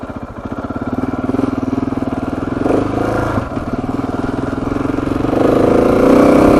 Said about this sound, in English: Better turn my traction control off, turn my ABS off, full throttle.